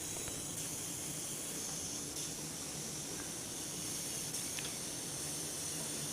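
Water with eggs and half a spoon of salt boils in a pot, giving a steady, continuous bubbling hiss without a break and with no talk.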